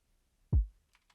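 One synth bass hit with EQ boosting its attack click, a low thump that decays slightly longer, alone apart from a couple of faint ticks afterward.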